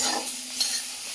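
Potato and eggplant frying in a small amount of oil in a home kitchen, a soft continuous sizzle with faint stirring scrapes, no voices.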